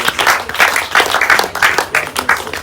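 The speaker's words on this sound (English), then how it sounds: "Go sit down and clap for yourself." A church congregation claps for itself during a lively service, with bursts of hand claps coming in uneven waves throughout, loud and close, with voices faintly mixed in.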